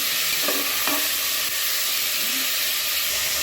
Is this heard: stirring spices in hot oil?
yes